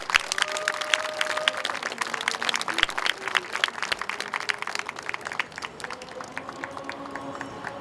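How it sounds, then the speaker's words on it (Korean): A crowd claps warmly to welcome a speaker at an outdoor gathering led by Sewol ferry victims' families, dense steady applause with sharp individual claps, moderately distant, fading slightly toward the end. "우리 전명선 위원장님을 큰 박수로 모시도록 하겠습니다"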